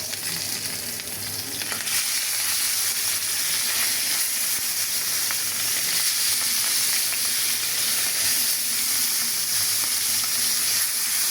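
Sliced onions fry in hot oil to become crispy beresta, producing a loud, steady, close hissing sizzle that runs unbroken for about eleven seconds with no voices.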